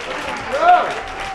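Audience at a startup panel discussion on venture capital and accelerators gives a brief round of applause, diffuse clapping swelling slightly midway while a voice carries over it.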